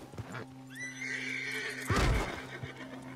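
A horse whinnies loudly and at length in Red Dead Redemption 2, a rising then falling neigh, followed by a burst of snorting and hoof noise, with faint game ambience beneath.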